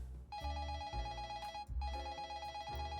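An old-style telephone bell rings loudly in a detective's office, sounding as three bursts of continuous ringing separated by short pauses, alone with no talk.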